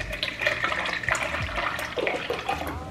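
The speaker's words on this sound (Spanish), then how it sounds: "hay que agregar 3 tazas de leche más" Plant-based milk poured into a pot while making vegan natilla, a liquid splashing and gurgling steadily for the full stretch, close by, with no talk.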